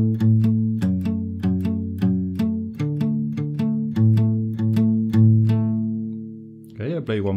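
A guitar plucks a riff: a clear, close run of evenly paced notes ringing into one another, ending with a brief vocal sound.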